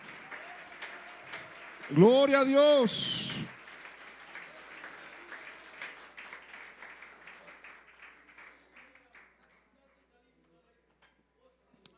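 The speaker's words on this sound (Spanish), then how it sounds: "¿Por qué no le hace aplauso al Señor, hermano?" A church congregation breaks into a burst of applause for the Lord, following a loud exclaimed voice. The clapping fades gradually and spoken words continue faintly.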